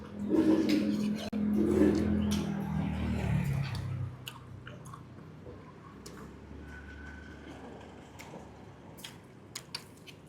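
Someone chews meatballs from a bowl of clear-broth meatball noodle soup at a noodle shop, with wet, squishy mouth sounds loud and close at first, then quieter with occasional clicks.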